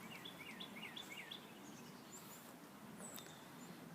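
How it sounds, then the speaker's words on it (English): Birds chirp and sing outdoors on a nature walk across a mowed field with trees nearby, a series of short rising calls early on and a few higher notes later, faint against a steady background hiss. "I hear some more birds singing."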